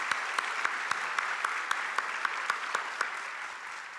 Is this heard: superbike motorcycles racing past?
no